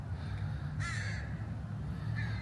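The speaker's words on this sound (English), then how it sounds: "The crows are doing some crowing." Crows cawing near a baseball diamond, a single loud harsh caw in the middle with a fainter one at the end over steady outdoor background noise.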